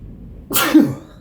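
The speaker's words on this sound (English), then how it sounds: "That sneeze has been a long time in the coming" A single sharp sneeze, close and loud, bursting suddenly out of near silence and fading within a second.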